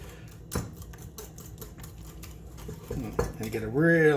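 Caesar dressing ingredients stirred in a bowl, quick clinking and scraping of a whisk or spoon against the side in an uneven rhythm, close, with brief voice sounds near the end.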